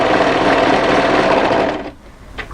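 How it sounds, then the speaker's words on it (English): An overlocker serges the fabric edges of a winter sweater in a close, fast, buzzing run that stops abruptly after about two seconds, followed by a faint click. "Overlock up to the notches, find the lower edge of that arm opening."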